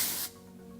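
Hairspray from an aerosol can gives one short, close hissing burst beneath lifted hair while curled beach waves are styled, then it stops abruptly.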